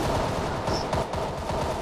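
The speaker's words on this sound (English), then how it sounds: "I can hear like the gunfire." Gunfire in the video game CS:GO, a dense run of rapid shots rattling continuously across the short stretch, loud and close with no talk over it.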